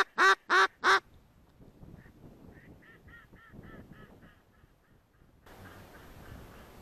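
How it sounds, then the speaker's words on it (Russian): Waterfowl calling during duck and goose hunting on a floodplain: three loud, close honking calls open the clip, followed by a quieter series of repeated quacking calls farther off, then a steady outdoor hiss. "тем более, как бы, утка летает"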